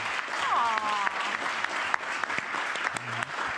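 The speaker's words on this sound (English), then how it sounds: "Give it a round of applause." Audience applause at a Full Sail University talk: steady, dense clapping from a room full of people, with a voice briefly heard over it.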